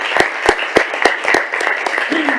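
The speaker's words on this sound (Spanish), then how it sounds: "Pido de nuevo un aplauso para la Secretaria General." An audience applauds the Secretary General at a conference, a steady wash of clapping with a few sharp nearby claps and a voice briefly audible underneath.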